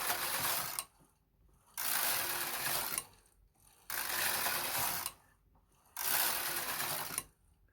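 Knitmaster Mod 150 knitting machine carriage knitting tuck stitch rows, four loud whirring mechanical passes of about a second each, separated by short quiet pauses.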